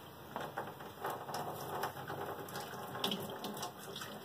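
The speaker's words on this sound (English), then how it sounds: "I got the cold water on." Cold water runs steadily from a sink tap, a continuous splashing hiss close by that holds through the whole stretch, with a few brief clinks and shifts as something is moved under the stream.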